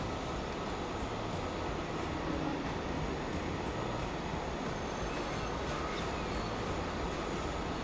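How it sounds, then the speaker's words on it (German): ICE train in the game Transport Fever running past, a steady broadband rumble of rails and wheels with faint squeal overtones, continuous and even for about eight seconds, with no talking. "Da fährt ja der ICE runter hier"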